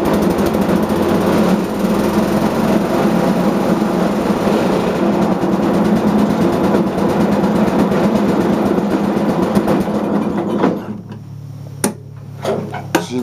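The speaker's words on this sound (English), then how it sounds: "Push in the clutch, put the choke on, turn her over." A riding lawn mower engine cranks and fires with the choke on, running loud and rough with a steady mechanical chatter before it drops off abruptly, then a few sharp knocks follow in the quieter tail.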